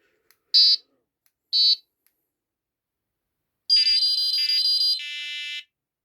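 A Prologic carp fishing bite alarm gives two short electronic beeps, then a longer multi-tone warble in a different pitch that shifts partway through, loud and close against silence.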